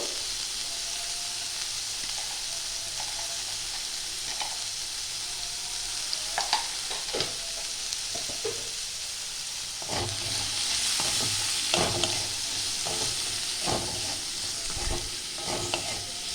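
Butter sizzles steadily in a pan while a utensil stirs with repeated scraping clicks that grow busier in the second half, no voices present.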